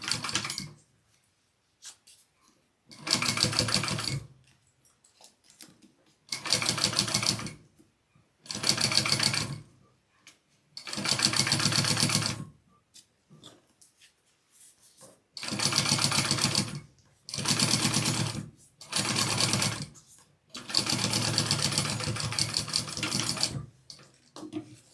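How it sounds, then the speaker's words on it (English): Sewing machine top stitching a fabric cookie carrier pocket, running in repeated bursts of steady mechanical whirring, each a few seconds long, separated by quiet pauses, close and fairly loud. "and then you're going to top stitch"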